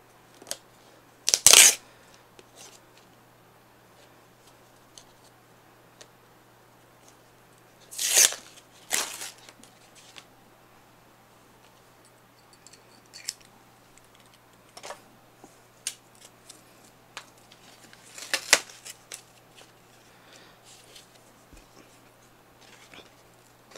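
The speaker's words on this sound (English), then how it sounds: "we will use our X-Acto knife very carefully to open this package" An X-Acto knife slices open the package of an ExoSkin protective skin for an iPad Mini, giving a few sharp, close crunching and scraping bursts separated by quiet stretches and faint small clicks.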